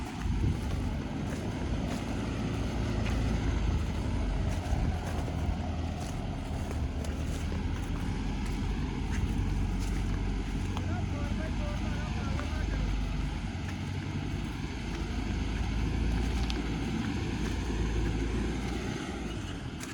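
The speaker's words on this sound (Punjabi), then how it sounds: "ਬਾਕੀ ਟਰੈਕਟਰ 4x4 ਤੋਂ ਬਿਨਾ ਵੀ ਬਹੁਤ ਵਧੀਆ ਚੱਲਣ ਡਿਆ" A tractor works a field in two-wheel drive, without four-wheel drive engaged. Its engine gives a steady, heavy low drone with wind buffeting for the whole stretch, and a voice speaks faintly over it at times.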